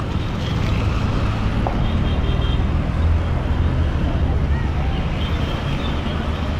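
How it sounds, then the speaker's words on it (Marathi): A bus pulls into the roadside market at Sangameshwar, a low engine rumble and road noise rising and holding steady nearby, with wind buffeting the microphone. "ही बघा, गाडी आलेली आहे देवरूप"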